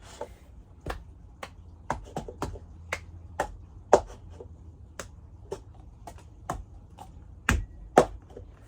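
Sharp, separate hand claps and taps with a cup on a table, played at a close, moderate tempo in the pattern of a cup song, with quiet pauses between beats.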